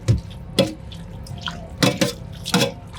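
Water is poured and stirred over raw deboned turkey meat, making a series of splashy, sloshing bursts at an uneven rhythm, close and fairly loud.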